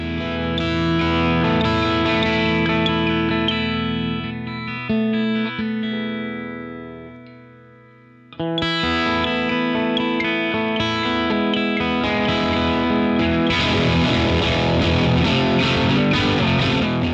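Distorted electric guitar chords through an Origin Effects DCX boost pedal ring out with heavy effects, briefly dropping away to near silence before the thick, driven sound returns full and loud.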